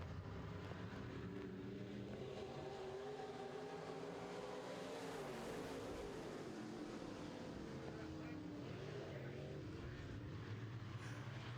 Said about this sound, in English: Great action in turn number 2 as they speed down the back straightaway